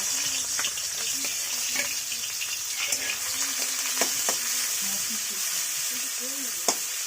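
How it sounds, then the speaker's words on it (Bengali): Salted, turmeric-coated prawns fry in a hot wok with a bright, steady sizzle, close by, marked by scattered pops and spatters and faint tonal murmurs underneath. "চিংড়ি মাছটা ভাজা হোক"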